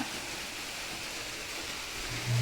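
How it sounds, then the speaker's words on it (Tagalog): Steady rain falls outdoors as a constant, even wash of soft hiss with no break, moderately quiet and without voices. "Patuloy pa rin yung ulan"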